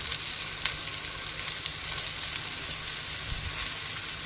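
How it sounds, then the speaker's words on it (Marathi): A thalipeeth flatbread made from five mixed flours roasts in oil on a pan, with a steady, even sizzle and soft crackle throughout. "आपण याच्यावरती थोडं थोडं तेल टाकूया होलमध्ये म्हणजे सगळीकडे चांगलं व्यवस्थित भाजेल"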